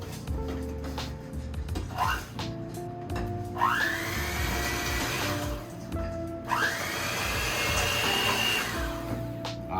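An electric mixer beats chocolate chip cookie dough, its motor whining up to speed in two long runs with a brief lull between, close and steady over faint kitchen clatter.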